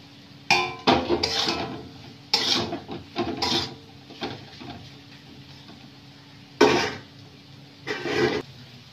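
Fried potatoes tipped into a pan of cooked spices with turmeric, chilli powder and salt, giving scattered clattering knocks and scrapes of utensil on pan in short separate bursts, close and fairly quiet.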